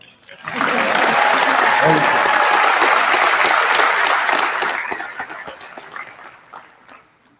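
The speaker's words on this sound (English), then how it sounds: "So I'm going to ask y'all to give them a big round of applause." A crowd at a graduation ceremony claps for the graduates in a loud, sustained wave of applause that holds steady for several seconds, then thins out to a few scattered claps. Faint voices mix in.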